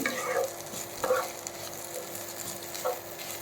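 Butter pepper chicken pasta being stirred and mixed in a pan, a soft continuous sizzle with a few scraping strokes of the spoon at irregular intervals, close and without talk.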